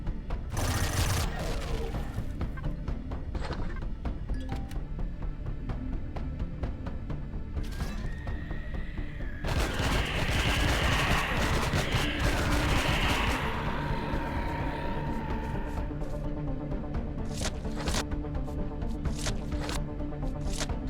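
A turret in the space survival game Empyrion (Reforged Eden 2) fires repeated heavy shots and bursts, with booms and mechanical clatter layered over a constant dense background of game noise.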